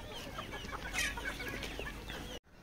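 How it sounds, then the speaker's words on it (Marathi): Desi country chickens cluck steadily and close by on a village poultry farm, a dense flock of overlapping calls that cuts off abruptly near the end. "मस्त अशा आपल्या कोंबड्या आहेत पूर्णपणे।"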